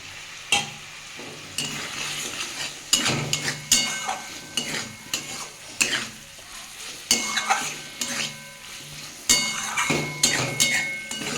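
Fried potatoes are tipped into sizzling spiced masala for a fish broth with potato and parwal, then stirred with a utensil scraping the pan in repeated strokes over steady frying crackle, close and clear.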